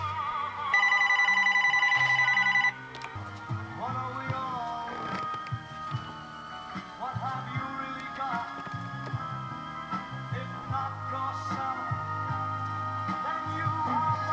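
A telephone rings with a steady electronic tone for about two seconds, then gives way to a busy, clattering mix of indoor background sounds for the rest of the stretch.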